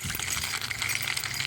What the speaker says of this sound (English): I'm gonna jingle my keys.